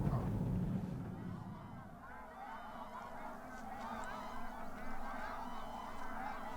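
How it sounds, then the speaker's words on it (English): A flock of black-necked cranes on the high plateau, overlapping honking and trumpeting calls carrying from a distance over low rumbling background noise, with faint human voices underneath. "a flock of nearly 100 black-necked cranes suddenly appears"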